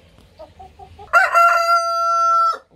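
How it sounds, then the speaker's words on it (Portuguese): A backyard rooster gives a few soft clucks, then lets out one loud, close, drawn-out crow that holds steady before cutting off sharply. "O galo gosta muito de cantar."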